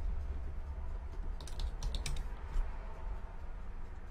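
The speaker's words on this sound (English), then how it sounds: "let's go ahead and type in world, hit enter" A brief burst of keystrokes on a computer keyboard, a handful of light clicks in quick succession over a steady background hum, close but quiet.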